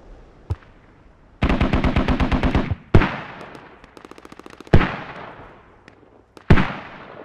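Mortar rounds fired in the tactical shooter Squad: several loud, sharp launches with long decaying tails, plus a rapid burst of evenly spaced booming reports, all close and with no talk over them.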